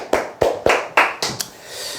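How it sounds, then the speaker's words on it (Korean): Small audience at a sales and telemarketing seminar giving a brief round of clapping: about six sharp, separate claps in an uneven rhythm, then quiet. "박수 한번."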